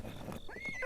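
A horse in the video game The Legend of Zelda: Breath of the Wild gives a short whinny with a rising, squealing tone, with hoof clatter and game sound underneath. Brief, moderately loud.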